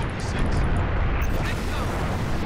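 Weapons fire at Phantom dropships in Halo: Reach, a dense continuous barrage of loud booming shots and explosions with no break, under heavy combat noise.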